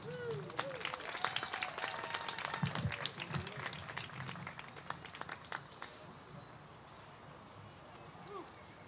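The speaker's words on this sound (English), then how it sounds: "So can we please give a round of applause to Louis?" A small storytelling-night audience claps enthusiastically, dense applause with a few whoops that thins out and fades after about six seconds, followed by quiet room ambience; the applause sounds moderately distant.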